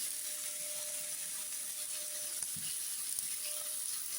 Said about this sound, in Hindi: बस तेज आंच पे इसको फ्राई करूँगी सारे साइडों को अच्छी तरह।